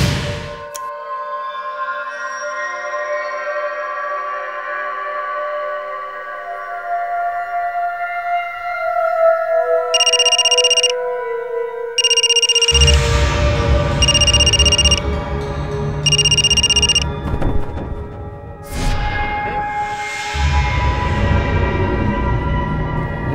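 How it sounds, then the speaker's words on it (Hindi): A mobile phone rings in a tense crime-drama scene: four evenly spaced electronic ring bursts sound over loud dramatic music, standing out clearly. "मैंने उसके सेल से मेरे सेल पर फोन किया"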